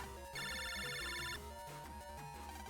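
In the video game Mega Man Battle Network 3 Blue, a phone rings as a bright, repeating electronic chime over busy, loud game music that continues underneath.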